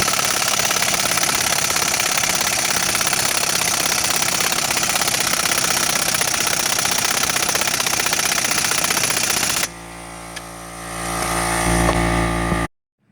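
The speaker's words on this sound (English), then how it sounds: "I'm just going to go ahead and use the impact to pull these both down" Impact wrench pulling down the strut bolts on a Pontiac Grand Prix during a front wheel bearing job: a long, loud, steady buzzing hammer run, then a short change in pitch before it cuts off. No talk.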